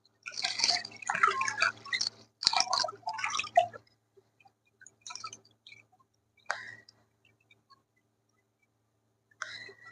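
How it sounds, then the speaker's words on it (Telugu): Chilled water poured over jaggery, crushed pepper, dry ginger and cardamom powder for panakam, with a few close splashing, dripping bursts early on, then sparse small drips and clicks in quiet. "మీ దగ్గర కూలింగ్ వాటర్ ఉంటే కూలింగ్ వాటర్ యాడ్ చేసుకోండి."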